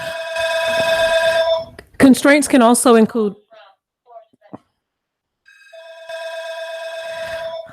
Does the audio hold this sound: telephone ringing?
yes